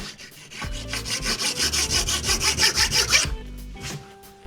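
A hand file rasps across hardened floor-tile repair filler from a Parkside tile repair kit, making a loud, close back-and-forth scraping in quick regular strokes that stops abruptly, followed by quieter handling noise.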